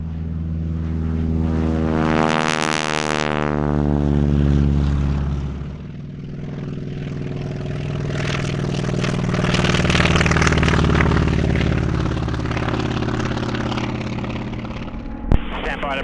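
A formation of propeller trainer aircraft, a CAC Wirraway and a BT-13, flies past at an airshow with a loud, droning engine roar that rises, sweeps by with a falling pitch and lingers, while an announcer talks over it.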